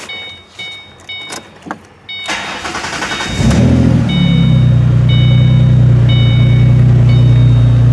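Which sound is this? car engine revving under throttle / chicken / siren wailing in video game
car engine revving under throttle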